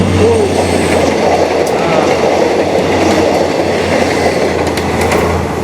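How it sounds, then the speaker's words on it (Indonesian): A feeder train rumbling past close by near the Nurtanio flyover in Bandung, Indonesia, with a continuous low roar, rattling wheels and occasional metallic squeals. "ini sebenarnya kereta yang paling sering lewat"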